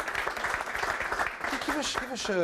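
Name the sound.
audience applause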